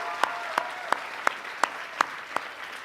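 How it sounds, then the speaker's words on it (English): Rhythmic clapping at a convention closing ceremony honoring volunteers, seven evenly spaced sharp claps over a steady wash of crowd applause, moderately loud and without talk. "applause to our volunteers."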